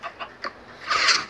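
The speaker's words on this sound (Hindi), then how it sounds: "ओहो मुर्गा अंदर घुस गया" Clucks from a video game chicken come in three short rhythmic pops, then a louder, scratchier squawk burst at the end, with no talking.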